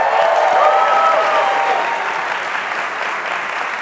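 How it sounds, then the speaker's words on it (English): An audience at a tech conference keynote in New York claps for an event organizer, a dense, loud burst of applause that fades slightly toward the end with no talking over it. "let's give a round of applause for Emma"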